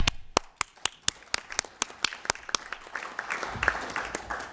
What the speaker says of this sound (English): I think we need to give this an applause.